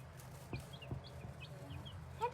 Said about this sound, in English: we have 4 new pullets that we started off as chicks